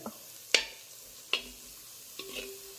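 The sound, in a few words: tomatoes cooking and being stirred in pot for tomato rice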